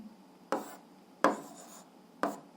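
Pen or chalk strokes writing out an algebra exercise: three separate, distinct scratching strokes spaced about a second apart, close and clear against a quiet background.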